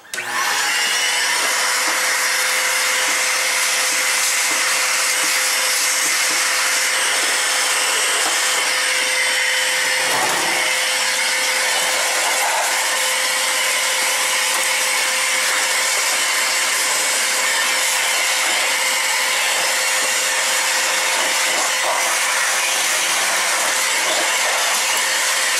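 Compressed air blasts steadily into a dirty, dust-clogged computer case, a loud continuous hiss and rush lasting throughout with no pauses and no talking.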